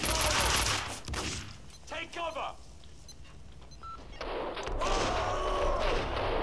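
Gunfire in the video game Max Payne 2 during a boss fight: bursts of rapid shots and crashing impacts over game sounds, with someone talking excitedly over much of it.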